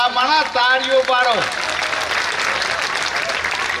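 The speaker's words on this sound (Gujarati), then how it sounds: "આપણી વચ્ચે આયા ભલા માણા તાળીઓ પાડો" After a brief spoken announcement, an audience at a community honouring event breaks into sustained applause, a dense crowd of clapping hands that carries steadily to the end.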